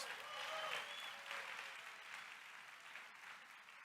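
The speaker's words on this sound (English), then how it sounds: "Please give them a round of applause" Audience applause at the NAACP National Convention public mass meeting, a steady crowd clapping that starts loudest and gradually eases off, with no voices over it.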